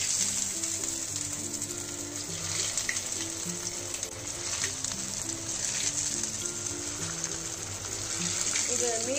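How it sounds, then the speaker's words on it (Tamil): Pieces of idli fry in hot oil over a medium flame, giving a continuous close sizzling hiss with soft background music underneath. "இப்போ இதை பொரிக்கலாம்."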